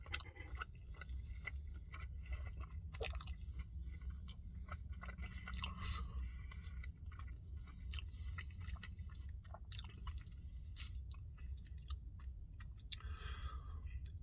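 Quiet chewing of a warm breakfast enchilada from a lunchbox inside a van, soft wet crunches and small clicks repeating steadily, close to the microphone, with no talking.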